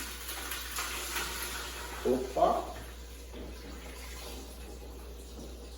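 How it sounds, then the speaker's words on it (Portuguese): Water poured from a container into a cooking pot for Brazilian chicken broth, a steady soft wash of liquid continuing under a short exclamation from a woman. "Eu coloco água, gente, até cobrir."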